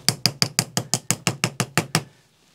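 A small Harbor Freight Pittsburgh 3-oz dual-sided non-marring mallet strikes about a dozen evenly spaced sharp taps close by, then stops and leaves quiet.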